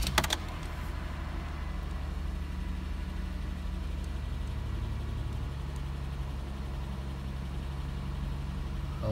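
A 2002 Toyota Sienna with its check-engine light on starts with a short, sharp crank and catch. It then settles into a steady, low, even idle, heard up close with no talking.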